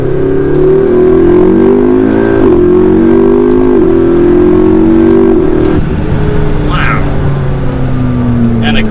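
A tuned McLaren MP4-12C supercar accelerates hard from inside the cabin, a loud, steady engine roar climbing in pitch through the gears, with a brief shift dip midway and someone talking over it.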